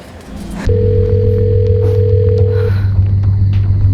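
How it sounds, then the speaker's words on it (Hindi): A phone line tone drones steadily for a couple of seconds over low background rumble, with no one answering. "कब से फोन लगा रही हूँ लेकिन वो फोन ही नहीं उठा रहे।"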